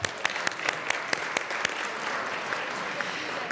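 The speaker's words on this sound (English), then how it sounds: "a big applause for them" Applause in the Colorado House of Representatives chamber: a crowd claps steadily, with sharp individual claps standing out over a dense, even patter.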